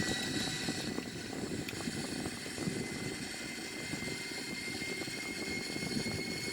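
An Airbus A340 in a flight simulator game drones steadily with a constant engine rumble and hiss throughout, even and unbroken with no voice.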